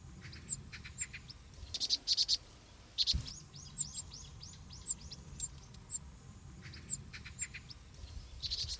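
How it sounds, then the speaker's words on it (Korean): A young cuckoo chick, out of a nest too small for it and raised by a vinous-throated parrotbill, gives high thin repeated calls in quick bursts over faint background noise. "바로 새끼 뻐꾸기입니다."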